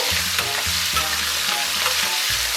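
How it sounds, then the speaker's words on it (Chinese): Chili sauce and broad bean paste frying in oil over low heat in a wok, a steady close sizzle with repeated stirring scrapes in an uneven rhythm, no voices. "咱们给里边下1勺辣椒酱，再来点豆瓣酱，小火给它们炒出红油"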